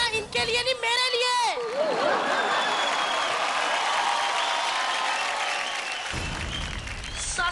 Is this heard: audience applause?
yes